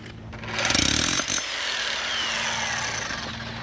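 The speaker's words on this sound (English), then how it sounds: "Nick is gonna have to chisel that piece out of there first before he goes any further." A chisel grinds and hammers at a stuck piece lodged in a drill hole, a harsh buzzing chatter for about a second, then a steady mechanical whir continues to the end.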